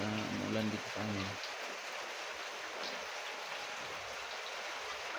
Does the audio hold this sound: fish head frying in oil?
no